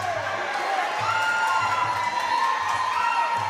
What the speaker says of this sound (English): But the crowd, they're going to cheer every opportunity here.